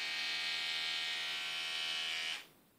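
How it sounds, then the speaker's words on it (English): Oral-B electric toothbrush, battery powered with two AA cells, buzzing steadily with a bright, even whine for over two seconds before cutting off abruptly into near silence. "Option two is an Oral-B electric toothbrush."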